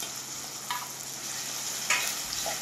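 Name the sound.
stirring ginger garlic paste with green chilies in pan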